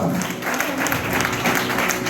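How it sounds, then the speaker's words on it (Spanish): A church congregation claps loudly and steadily during a lively worship service, a close, dense burst of many hands filling the room without pause. "Dale fuerte el aplauso al Señor"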